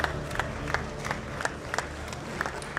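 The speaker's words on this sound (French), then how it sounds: "On peut les applaudir très fort." An audience at the SwissEurobot 2017 robotics competition applauds the teams. The clapping is faint and sounds distant, with scattered sharp claps over a low crowd murmur.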